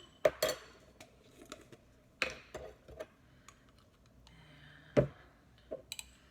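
A jar of homemade chest rub is opened, making scattered small clicks, taps and clinks of lid and glass, with a few sharper knocks among quiet pauses, close by.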